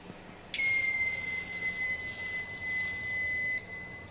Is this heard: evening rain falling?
no